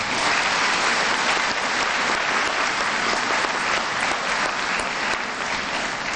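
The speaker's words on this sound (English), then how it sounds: "Give yourselves a big round of applause." Audience at a middle school promotion ceremony applauds steadily and loudly for several seconds, a dense, even wash of many hands clapping with no pauses.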